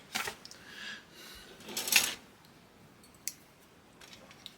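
Plastic parts of a Tamiya 1/16 Kubelwagen scale model kit being snipped from the sprue, a few sharp clicks and cuts, one louder snip near the middle, with quiet pauses between.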